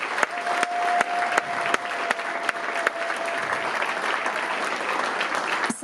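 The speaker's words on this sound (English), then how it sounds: "So a round of applause for all of them." An audience at an evening event applauds board members in a hall, a dense sustained round of clapping with a few sharper claps standing out.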